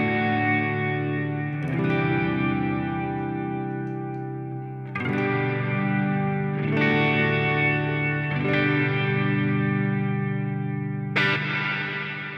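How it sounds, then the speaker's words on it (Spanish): Electric guitar run through the factory ambient reverb preset on a Line 6 POD Go, playing sustained chords that ring out in a long wash of reverb. New strums enter at regular intervals, with no talking. "El mix es el fuerte de la reverb, o sea, qué tan fuerte quieres la reverb"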